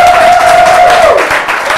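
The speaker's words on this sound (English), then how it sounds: "A round of applause for Sam" Audience applause from a studio quiz show crowd, a steady dense wash of clapping heard throughout, with a sustained tone running beneath it before it fades out.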